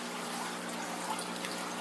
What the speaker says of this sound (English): and oxygenating the water there. Got some water movement.